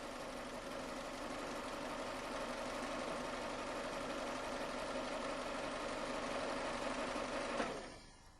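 Toyota car engine idles with a steady, even mechanical hum and faint rattle for most of the stretch, then cuts off with a brief click and fades away near the end.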